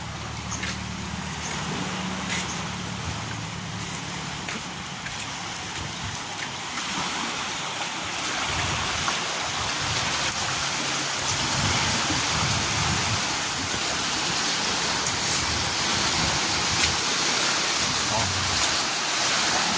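Rough sea with waves breaking in a steady, loud wash of surf that runs without a break throughout, with faint voices mixed into the noise.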